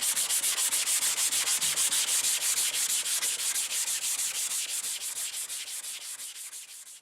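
Hand sanding of car body filler with 80 grit paper: fast, rhythmic rasping strokes repeat evenly and close up for the whole stretch, slowly easing off in loudness.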